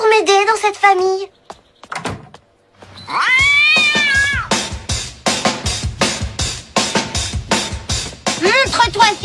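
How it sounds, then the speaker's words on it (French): Cartoon cat meows and yowls, a long drawn wail followed by rapid, rhythmic repeated cries, loud and close, with a brief thud and some talk around it. "Un chat."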